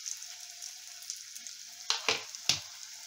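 Bhetki fish fingers drop into hot oil in a wok, giving a steady quiet sizzle with a few sharp crackling pops near the end.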